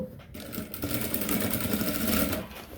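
A sewing machine stitches a garment hem, a fast steady mechanical whirring and clatter that runs close and loud for a couple of seconds before slowing, with a voice faintly present at times.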